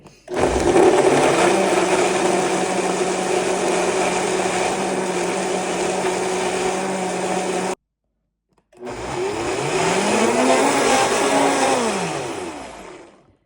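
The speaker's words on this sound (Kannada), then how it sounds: "ಎಲ್ಲದನ್ನು ಸ್ವಲ್ಪ ನೀರು ಹಾಕ್ಕೊಂಡು ಗಟ್ಟಿಯಾಗಿ ರುಬ್ಕೋತಾ ಇದ್ದೀನಿ" A mixer grinder whirs loudly and steadily as it grinds whole spices with a little water into a thick paste, running for several seconds, pausing briefly, then restarting with a wavering, straining pitch.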